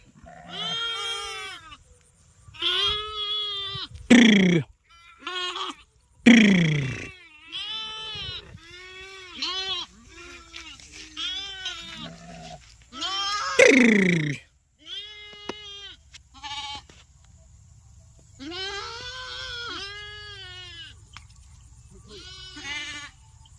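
A flock of sheep short of grass bleats over and over, with loud, wavering calls from several animals near and farther off, separated by brief pauses.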